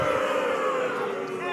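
A crowd roars and cheers loudly in a continuous wash of voices, close and sustained throughout the short moment.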